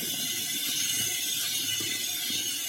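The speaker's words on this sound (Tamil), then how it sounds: "நான் பீட்டர்லேயே கலக்குறேன்." A beater mixes chocolate sponge cake batter in a steady, close, continuous whirring hum with faint rattling and no pauses or talk.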